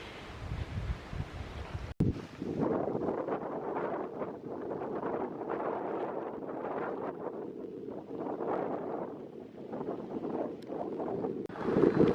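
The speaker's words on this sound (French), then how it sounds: "beaucoup trop de vent pour me lancer en kayak sur le Grand Lac aujourd'hui" Strong wind gusts buffet the microphone beside a large lake, a steady roaring rush with broadband buffeting that continues throughout, with a brief dropout near the start and no talk.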